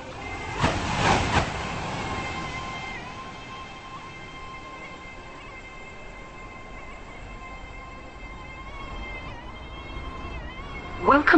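A video-game train runs through a station without stopping, giving a sustained hum with steady tonal whine over rumble and a brief louder burst near the start, in the manner of a station announcement or horn.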